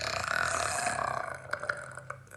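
A sustained, gravelly belch from a woman sounds up close, rolling on for about two seconds and breaking into a few choppy bursts near the end.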